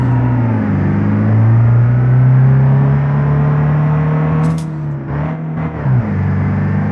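Ford Transit van engine in the BeamNG.drive driving game, a loud, steady droning rev that climbs slightly in pitch, then dips and wavers near the end.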